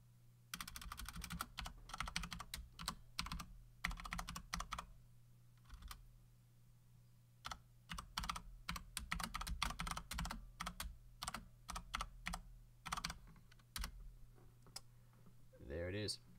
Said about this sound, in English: And we'll just type that in the Discord.